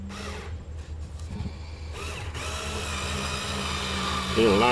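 A screw being driven into a pilot hole while assembling a Furinno bookcase, heard as a steady power-driver whir that builds and holds through the clip, with brief rattles and a closer burst near the end.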